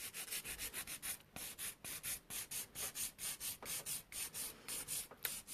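Hand nail file rasping rhythmically across a sculpted gel stiletto nail, a steady series of quick close strokes, about three to four per second, with no talking.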